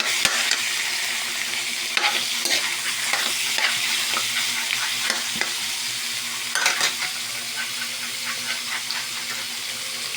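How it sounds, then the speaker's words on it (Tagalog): Pork belly (liempo) frying in a pan gives a continuous loud sizzle and spatter, close up, with occasional scraping and stirring bumps and no talking. "Iuna natin itong liempo para maprito siya."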